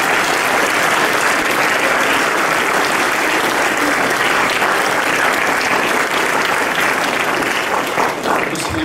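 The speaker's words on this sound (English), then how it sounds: "So another round of applause to the team." Full school assembly applauds the student F1 team, a dense, loud wash of clapping from a large crowd that runs steadily throughout.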